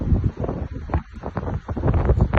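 Steady wind buffeting a microphone outdoors in Sopot, Poland, a low rumbling roar with gusty surges throughout.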